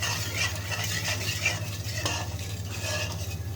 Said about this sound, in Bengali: এখন দেবো একটু দইটা দিয়ে এখন আমি সুন্দর করে একটু মশলাটার সঙ্গে কষিয়ে নেব।